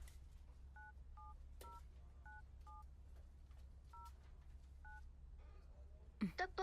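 A telephone number is dialed as a quick series of short DTMF keypad tones, eight beeps in an uneven rhythm, faint over a low hum, then a brief rustle at the end.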